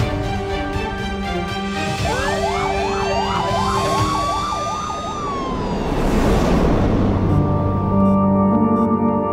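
A wailing emergency siren of the kind used on an ambulance, its pitch sweeping up and down in a steady repeating cycle, loud and close, amid ongoing street traffic noise.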